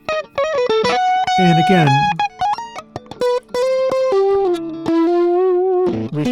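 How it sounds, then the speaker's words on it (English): Heavily distorted electric guitar through the Airwindows Coils2 plugin into a Marshall stack, playing loud sustained notes and bends with a saturated harmonic buzz; a voice briefly talks near the start. "we're just pushing into extreme distortion"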